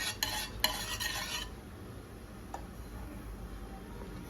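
Semolina being stirred in hot ghee in a pan, a short burst of busy scraping and sizzle at the start, then a quieter stretch with a single faint clink, no talk.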